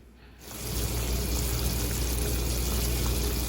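A pot of water at a rolling boil gives a steady, close bubbling hiss that swells in after a quiet moment and then holds level, with no talking.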